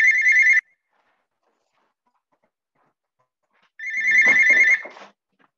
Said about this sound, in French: J'avais oublié de débrancher le téléphone.